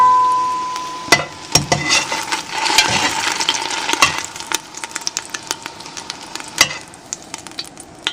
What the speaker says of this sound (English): And I'll continue frying the rest.